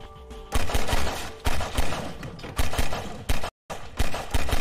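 Pistol shots in a video game fire in rapid bursts, loud and close, separated by brief pauses and one short silent gap, with no talking.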